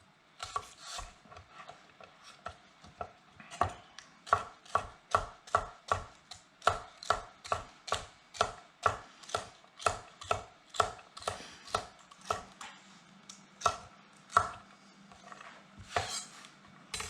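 Steady, evenly spaced knife strokes chop celery against a cutting board in a home studio kitchen, each sharp tap close and crisp, running in a brisk rhythm with a few brief pauses and no talking.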